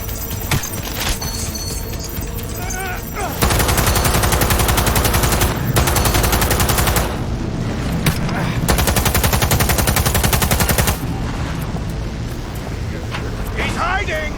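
Loud, rapid automatic gunfire from the Cyberpunk video game comes in long sustained bursts with short pauses, under voices.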